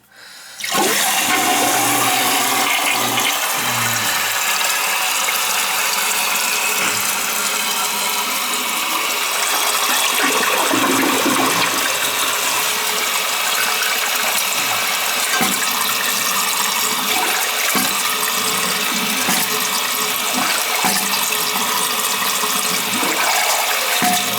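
A toilet with a leaking tank flushes in a loud gush, then refills with a long, steady rush of water. The sound is close and continuous, with no talking.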